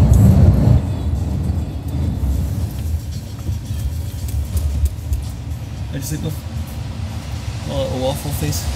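Steady low engine rumble and road noise fill the inside of a moving bus, with people talking over the drone throughout.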